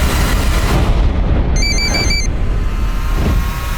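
A telephone rings briefly with a short electronic trill over a loud, constant rumbling background noise.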